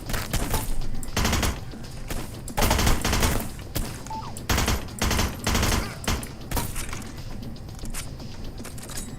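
Guns fire in Hitman Blood Money in repeated loud bursts of rapid shots, separated by short pauses, with clicks and mechanical clatter between volleys.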